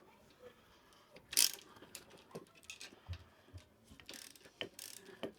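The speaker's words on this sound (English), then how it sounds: "just undo the nuts, so the handle comes off" Nuts being undone to take the handle off a Kamado Bono Minimo grill, heard as a sharp ratcheting burst followed by scattered metallic clicks and taps, close and fairly quiet.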